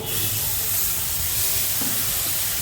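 Hot water hits spice masala cooking in a pan over a low gas flame, giving a loud, steady hiss and steam sizzle that fills the whole moment with no speech.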